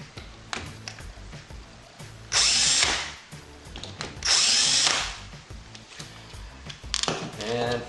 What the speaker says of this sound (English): Now, the self-centering bit.